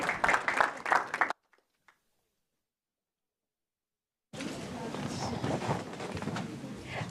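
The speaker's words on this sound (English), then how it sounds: "please give a round of applause to Selena." Audience applause at a youth digital-impact summit, bursting in loudly, cutting to silence for a few seconds, then returning as sustained, moderately loud clapping from the crowd.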